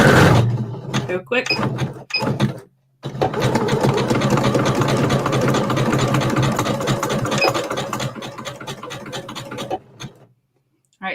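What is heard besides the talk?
sewing machine back stitching over rope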